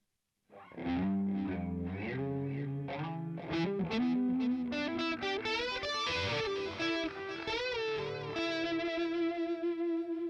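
An electric guitar through a Boss Katana MK2 amp plays a melodic phrase drenched in SD3000 digital delay, repeating echoes stacking into a shimmering wash that trails on after the notes.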